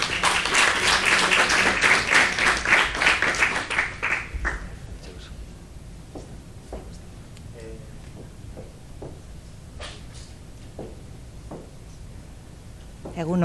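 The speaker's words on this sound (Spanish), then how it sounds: "Un aplauso para ella, por favor." An audience claps for several seconds, the applause loud and dense before it fades into scattered handling noises and a quiet room.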